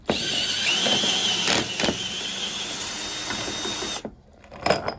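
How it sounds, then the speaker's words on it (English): Sharp ratcheting and metallic clicks as a spanner cracks loose anchor bolts inside a Ford Transit Custom van during a camper conversion, steady close working noise with a couple of louder jolts, then a brief quiet gap. "I'm just really going to crack these with the spanner"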